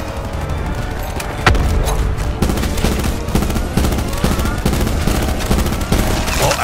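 Dense automatic gunfire in Call of Duty Black Ops 4 Zombies, Blood of the Dead: continuous rapid bursts and heavy booming shots, loud and near, with no break throughout.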